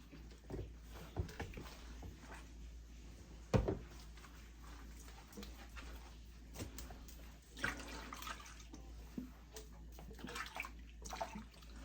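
Water splashes and sloshes in a basin while wigs are hand-washed and scrubbed clean of dirt and sweat, with irregular close splashes and one sharper slosh midway.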